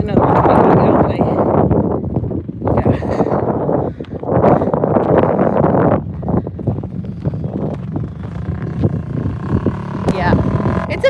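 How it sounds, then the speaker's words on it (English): Strong wind buffets a phone microphone, making a loud, continuous low roar that surges in gusts throughout. "I am covering part of the phone so you guys don't get all the wind"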